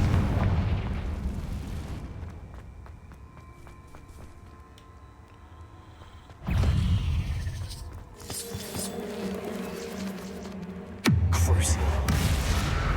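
Confringo spell blasts in the video game Hogwarts Legacy, heard as loud booming explosions with rumbling tails. One comes at the start and two more strike sharply later, each followed by crackling debris and game ambience.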